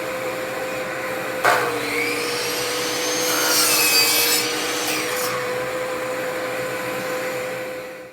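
Boards are cut on a saw while a dust collection system drones steadily throughout, the blade biting into wood with a sharp onset and rising whine before the motor hum carries on alone.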